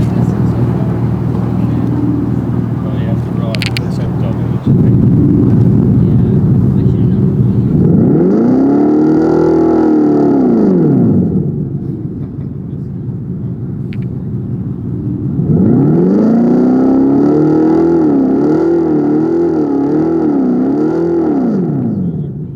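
The 2024 Dodge Charger Daytona EV's Fratzonic exhaust system revs loudly twice, each swell climbing and falling in a deep synthetic roar, with a lower rumble between and people talking at the start.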